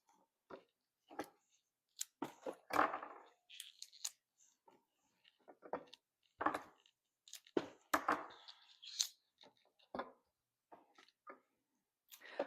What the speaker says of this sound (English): Sometimes you might think that you're chopping this off a little bit short